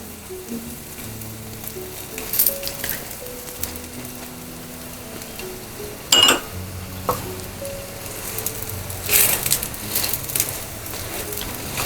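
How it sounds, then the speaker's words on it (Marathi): A paneer paratha fries in ghee on a griddle with a continuous close sizzle that swells in louder bursts as it is turned and pressed, with faint tonal sounds in the background. "आता पुन्हा या उलटलेल्या साईडवर तूप घालते छान पुगायला लागलाय आता"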